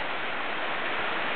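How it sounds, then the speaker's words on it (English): Jones Falls, a waterfall dropping down a mountain, a steady dense rushing wash, constant and unbroken over a short stretch. "it's a beautiful waterfall that drops down the mountain"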